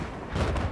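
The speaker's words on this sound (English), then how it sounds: "That mortar is low." A mortar shell explodes in a large 32 vs 32 online military shooter match, a deep rumbling blast that swells midway through and rolls on briefly, fairly loud against the battlefield din.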